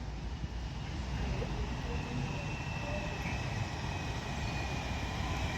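A London Northwestern Railway passenger train rumbles steadily at low volume as it arrives at Runcorn station, its wheels and engine giving a continuous drone with a faint high whine above, and no one speaking.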